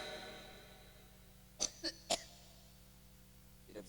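A few short coughs during a Ramadan religious talk at a school, three quick bursts close together over a quiet room hum, then a fainter one a moment later.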